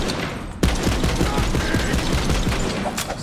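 Video game Borderlands 3 gunfire crackles in a dense, continuous automatic burst, loud and close, with a sharp shot standing out early and no speech.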